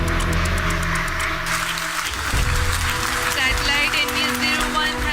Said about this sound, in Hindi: ये ऐलान होते ही मिशन कंट्रोल रूम तालियों की गड़गड़ाहट से गूंज उठा।